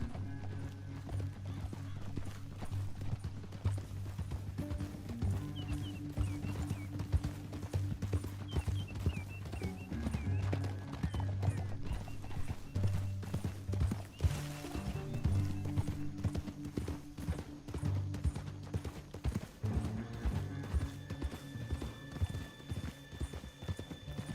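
Horse hooves clip-clop in Red Dead Redemption 2, a steady rhythmic trot running throughout over a background game score, with an occasional whinny and no one speaking.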